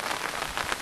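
Rain falling in a brief burst, dense hissing patter of drops striking a surface, close and steady with no voices.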